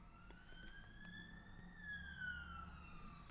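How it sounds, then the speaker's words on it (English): Police car sirens wail along a road, one steady rising then falling tone that stays faint and distant under a low traffic rumble. "There's a lot of police cars going down my road today."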